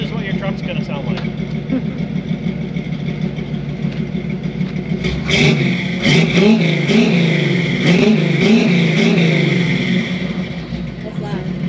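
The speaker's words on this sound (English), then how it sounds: "So this is what your truck's gonna sound like." A truck engine rumbles at idle, then revs hard in several loud bursts in the second half before settling back, heard close up, with people talking at the start.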